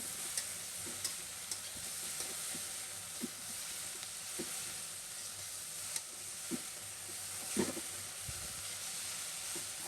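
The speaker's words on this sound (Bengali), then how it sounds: "আমি দিয়ে বসাইছি ভেন্ডি ভাজি করতেছি" Okra (bhindi) fries in a pan at home with a steady hiss, broken by regular spatula taps and scrapes roughly every second; close and moderate, no one speaking.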